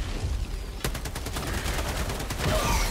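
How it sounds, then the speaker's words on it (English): Rapid machine gun fire rattles in the Helldivers 2 video game, a dense burst of close, loud shots that starts abruptly and continues over low background rumble. "Quick, machine gun!"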